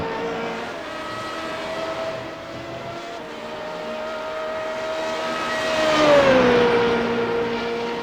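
Race cars at the Silverstone circuit during a Home Nations Cup race: a continuous moderately loud engine drone that holds steady, then swells and drops in pitch as a car passes near, with no voices.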